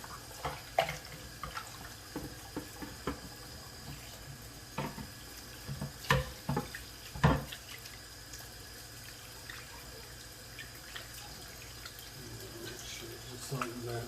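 Oxtail meat being rinsed under a running kitchen tap, with water flowing steadily and splashing in several louder bursts as the pieces are handled, fairly close and alone.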